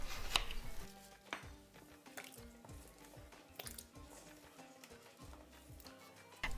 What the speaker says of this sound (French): Épluchez les pommes de terre et découpez-les en gros cubes ou quartiers.